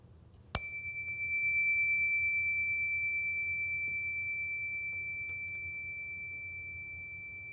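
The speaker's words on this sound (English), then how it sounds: "I'll ring the bell and just see if you can listen to the beginning, middle, and end sound of the bell" A single bell is struck once during a mindful listening exercise, giving a bright, clear strike followed by a long, steady ringing tone that slowly fades over several seconds against quiet room hum.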